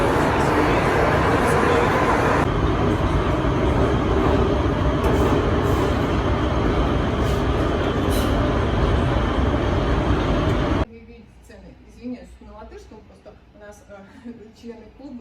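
Loud, steady rumble and roar of a Prague metro train in motion, then an abrupt drop to a quieter carriage interior with faint clatter and scattered voices.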